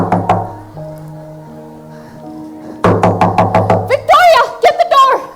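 Knocking on a door during a school stage play, a run of sharp, close raps in quick succession following sustained background music, with a voice calling out partway through.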